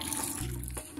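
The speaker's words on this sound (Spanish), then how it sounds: "Este es el río Palomino" The Palomino River in Colombia flows in a brief burst of steady, rushing water, close and constant, with a faint low rumble underneath.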